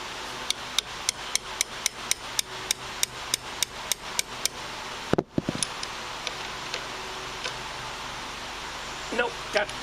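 Light hammer taps on a carburetor bowl part during fuel system repair: about a dozen sharp, evenly spaced taps, a heavier knock partway through, then a few scattered softer taps.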